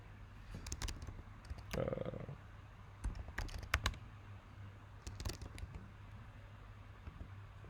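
Typing on a computer keyboard into a Rails console: soft clustered key clicks in short bursts separated by pauses, close and quiet against a low steady hum.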